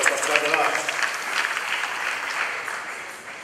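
A church congregation applauding during a Sunday service, a dense sustained clapping close and loud that gradually fades over a few seconds.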